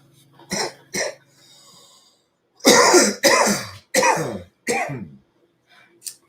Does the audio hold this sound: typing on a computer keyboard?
no